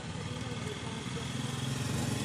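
A Honda Supremo 150 motorcycle engine idles steadily with a low, even putter, close and continuous, no other sounds standing out.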